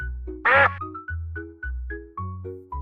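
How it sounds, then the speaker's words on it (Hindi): Cartoonish duck quacks sound in a bouncy series of short repeated notes, with one louder, rougher quack near the start, loud and close with no talking over them. "डक।"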